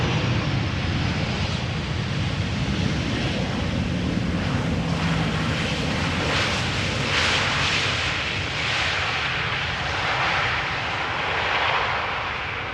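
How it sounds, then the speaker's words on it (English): A KLM airliner lands at Amsterdam Schiphol Airport in showery weather, a steady broad jet roar that swells and eases slightly over the whole stretch, fairly close, with no voices. "And a typical KLM landing, keeping up the speed, vacate late, sooner to the gate."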